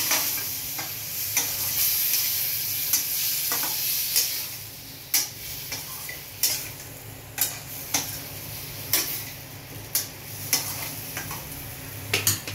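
Spice paste of ground coriander, cumin, turmeric and Kashmiri chilli being stirred in a frying pan for dhaba-style chicken curry: a constant sizzle broken by regular sharp spoon clicks against the pan.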